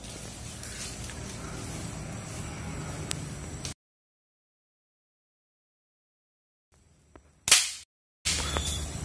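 A single sharp air rifle shot from a bamboo-stocked Predatore-type air rifle cracks out after a stretch of silence, with steady outdoor background noise before and after it.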